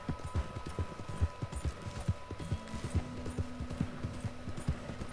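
Horse hooves clip-clop steadily on the ground in Red Dead Redemption 2, a close, rhythmic trot of repeated thuds that carries on throughout over a faint background hum.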